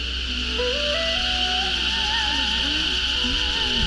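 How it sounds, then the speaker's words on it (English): Cicadas at a royal palace in Hoi An, Vietnam, keep up a dense, steady high-pitched drone throughout, while a faint tonal melody wanders underneath. "the background noise here is the sound of cicadas"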